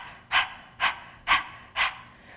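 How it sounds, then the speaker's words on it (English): Four sharp, evenly spaced breaths, each a quick forceful exhale paired with a snappy inhale, done as a yoga panting exercise, close and loud with quiet gaps between. "you're actually expelling the breath and inhaling sharply"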